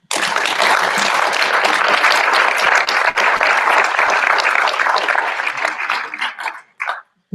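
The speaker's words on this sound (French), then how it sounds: "Je pense qu'on peut les applaudir." Sustained, fairly loud audience applause at a colloquium, many hands clapping evenly for several seconds before fading to a few scattered final claps.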